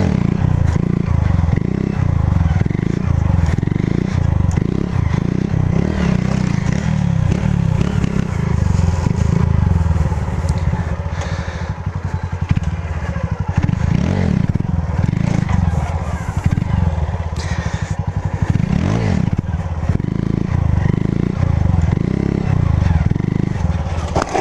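A Honda Fan 150 motorcycle ridden by a learner drones loudly and steadily throughout, the engine close by with slight rises and dips in revs and some rattling clatter.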